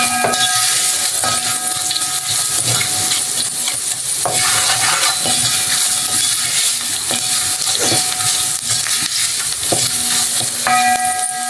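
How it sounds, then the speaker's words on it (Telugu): Onions fry in a pan with salt stirred in, making a loud, constant sizzle and hiss with repeated metallic clinks from the spoon against the pan at irregular intervals. "ఇదిగోండి సరిపోయినంత సాల్ట్ వేసుకుని ఒకసారి ఇలా కలిపేసుకుందామండి"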